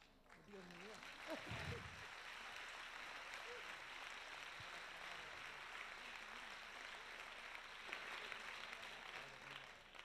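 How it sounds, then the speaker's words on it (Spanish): Applause from the audience at a debate panel, a faint, distant, steady patter of clapping heard under a voice speaking at the start. "espero responder a ese aplauso"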